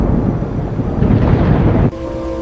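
A deep, roaring rumble of thunder rolls on for nearly two seconds, heavy and close like an approaching storm, then gives way abruptly to a quieter humming background.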